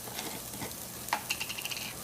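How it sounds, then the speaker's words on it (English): Garlic and onions fry in a pan for Zuppa Toscana with a soft, even sizzle. A few close clinks and scrapes of stirring rise above it, and no voice is heard. "we're going to go ahead and add a little bit of garlic into the pan"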